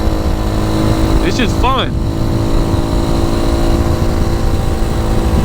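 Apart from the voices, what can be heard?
2020 RPS Magician motorcycle riding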